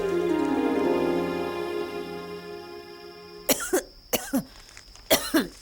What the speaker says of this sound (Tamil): வெறும் வரட்டு இருமல் தான்.